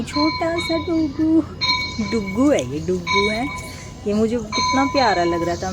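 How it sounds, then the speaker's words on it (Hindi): A temple bell rings out in repeated clangs near a temple, heard through a woman's lively speech, with bright sustained metallic tones fading between strikes. "मंदिर की घंटी की आवाज़ आ रही है"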